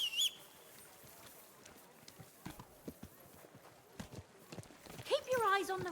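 Horse hooves clip-clopping at a steady walk in Kingdom Come: Deliverance II, close and rhythmic, with a short whinny near the end and game ambience beneath.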